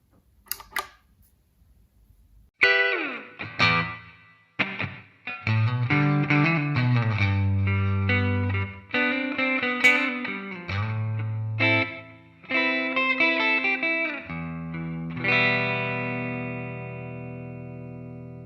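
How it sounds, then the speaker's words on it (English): A Les Paul electric guitar played through a multi-effects pedal on bright clean tones, with strummed chords and picked phrases ringing loud and close, sustained notes fading between strums, and no talking. "So to get a tone that bright out of a multi-effects unit is honestly remarkable."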